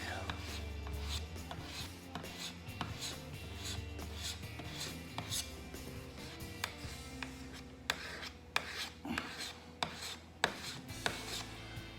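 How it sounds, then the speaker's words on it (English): Glazing putty spread thinly with a putty knife over a fiberglass repair, giving soft, close scraping and rasping strokes in irregular bursts against a low background hum. "Now this is a glazing putty. It's not made to be put on thick."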